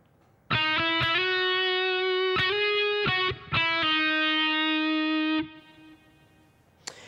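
Distorted electric guitar plays a short solo phrase of sustained notes, a few quick picked attacks and slides between held tones, then a single note stabs near the end.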